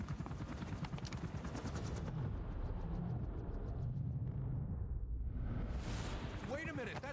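Gunfire against a helicopter's rotor blades in Metal Gear Solid V, with rapid shots over the loud, steady beat of the helicopter's rotors and a rumbling, chaotic battle texture throughout.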